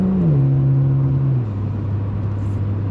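A 2014 Ford Taurus SHO engine with a faulty knock sensor pulls under throttle, a steady close rumble whose tone dips early and then settles into a low, even drone for the rest of the stretch.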